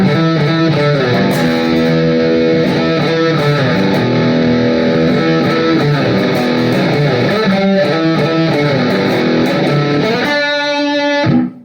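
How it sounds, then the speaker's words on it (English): A distorted electric guitar with EMG or Seymour Duncan Black Winter pickups rings out with sustained chords and reverb, played continuously and loud before a final strum fades out. "a little of the reverb distortion"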